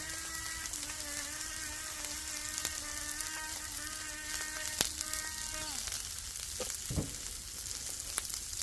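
Broccoli seasoned with salt and pepper sizzles on a griddle in a steady hiss, overlaid by a high whining hum that cuts off near the end, with a few sharp knocks and no speech.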